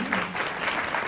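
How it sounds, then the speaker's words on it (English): An audience at a panel and party celebration breaks into warm, steady applause, a dense close patter of many hands clapping throughout. "Well, we want to have another round of applause for you, Gail, and to thank you for a dozen"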